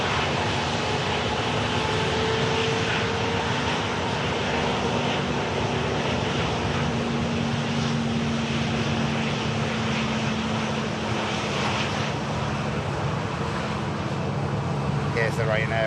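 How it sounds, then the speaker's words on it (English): Passenger jet leased by TUI at an airport, a steady broadband engine roar with a faint tonal whine holding throughout, loud and continuous over the whole stretch. "This aircraft currently being leased by TUI."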